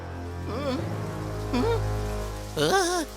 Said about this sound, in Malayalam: ഈ മഴ പെയ്യാൻ കണ്ട സമയം.